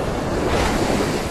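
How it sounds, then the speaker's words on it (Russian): Ocean surf washes onto the beach at Tangalla, Sri Lanka, with a loud, steady roar, wind buffeting the microphone throughout. "Волна нашла."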